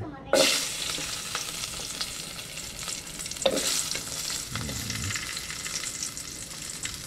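Garlic frying in a pan at a lively sizzle, with a few scrapes of stirring cutting through the steady hiss; no talking.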